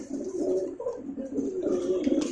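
Black Sirazi pigeons at a pigeon farm coo almost continuously, a close, steady, burbling rumble that swells and dips over a couple of seconds.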